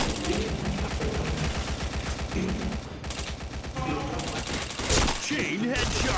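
Rapid bursts of video game shooter gunfire with headshots, dense and continuous volleys of sharp shots at close range, briefly pausing mid-clip, with faint chatter mixed in.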